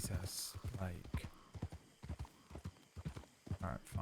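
Horse hooves clip-clop steadily in a video game, a close, rhythmic clatter of individual strikes with a brief whinny, while people talk over it.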